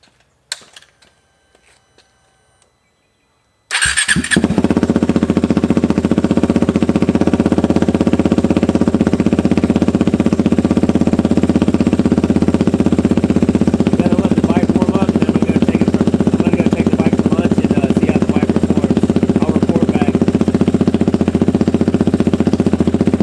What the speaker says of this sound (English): here is the first startup on the Powertronics Fuel X ECU